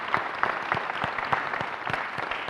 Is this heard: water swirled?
no